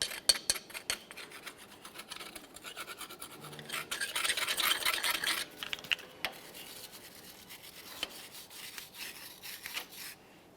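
Scraping debris out of the wheel hub mounting area on a 1999-2006 Chevrolet Silverado 1500, heard as irregular rasping and scratching strokes that are fairly faint and up close, swelling briefly louder midway.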